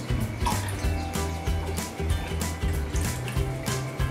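White vinegar being poured into a container to mix an ecological floor cleaner, a steady close liquid splash and gurgle lasting a few seconds, with no talk.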